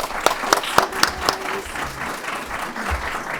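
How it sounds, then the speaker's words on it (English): An audience at a candidates' meet-and-greet breakfast gives a short round of applause for election candidates: a few distinct claps up front, then a fading, thinner patter mixed with murmuring voices. "please join me in giving them a round of applause"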